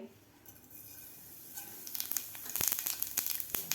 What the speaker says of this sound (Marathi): जिरे आपले व्यवस्थित फुललेले आहेत